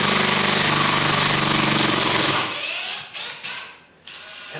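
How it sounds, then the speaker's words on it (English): A ratcheting drill drives a screw during a DIY ceiling fan installation, a loud dense mechanical clatter that runs for over two seconds, then stops and gives way to a few short bursts and quieter handling. "And that's a ratcheted drill. It's designed to make that noise."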